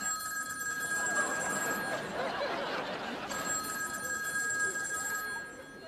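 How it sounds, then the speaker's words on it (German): A telephone bell keeps ringing with a steady electronic tone in a TV hidden-camera prank, moderately loud against faint room noise. "Da stimmt was nicht, ich hab doch schon abgenommen, es klingelt immer noch."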